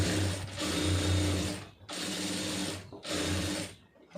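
A sewing machine stitches fabric in three steady, loud whirring runs, each lasting about a second and a half, separated by brief pauses.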